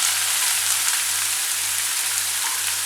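Chopped onion, ginger and green chili fry in oil in a kadai with cumin for samosa filling, giving a loud, even, close sizzling hiss with no voices.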